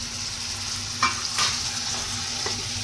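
Fresh cashew kernels cook in a pan with a continuous close sizzle and a low steady hum, broken by a couple of brief scraping stirs.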